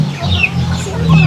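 Chickens cluck close by in a yard, a few short throaty clucks and calls over a low background hum, with faint voices nearby.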